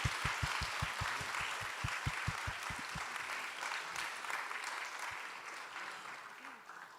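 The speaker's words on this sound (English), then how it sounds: "A big round of applause." Audience applause fills an opening forum at an architecture and urbanism biennale in Seoul: steady, dense clapping from a large crowd that carries evenly through the whole stretch, with a few sharp low thumps near the start.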